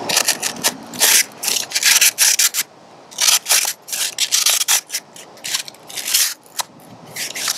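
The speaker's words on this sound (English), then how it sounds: "Cuts cardboard, great." Smith and Wesson S.W.A.T. large folding knife slicing through cardboard from a shipping box, a series of sharp, close rasping cuts in rapid bursts separated by short pauses.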